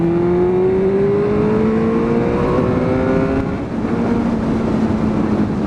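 A motorcycle engine drones loud and close while riding, a steady tonal hum that rises and falls slightly in pitch over wind roar, with no voices.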